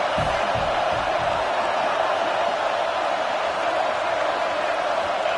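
Stadium crowd in an American football video game, a loud sustained roar and cheering on a fourth down play near the end zone, continuous and dense throughout.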